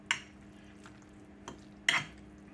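A spoon stirring onion and a chuck roast in a cooking pot, with three distinct metallic scrapes and clinks spaced apart over a quiet background.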